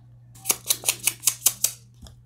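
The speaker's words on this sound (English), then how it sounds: "So I found this little envelope here. I have to cut it down a little." Scissors cut down a small paper envelope in seven quick, evenly spaced snips, each a crisp close-up crunch, followed by a faint final click in an otherwise quiet room.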